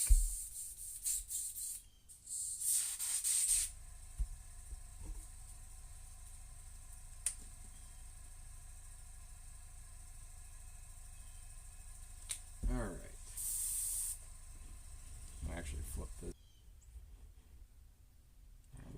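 Airbrush spraying light black paint onto a fishing lure gives short hissing bursts, one longer spell near the start and a brief one later, with quiet handling sounds between.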